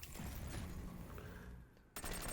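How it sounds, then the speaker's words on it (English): Rapid M4 rifle gunfire in the shooter game XDefiant, a dense continuous burst of shots for most of the moment, briefly dropping off before another loud volley starts up near the end. "let me show you guys and give you an example here with the M4"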